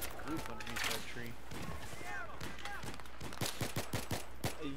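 Rapid bursts of automatic gunfire in a Battlefield 3 Rush match, with a steady rattle of shots building toward the end, mixed with the game's background noise and voices talking over it.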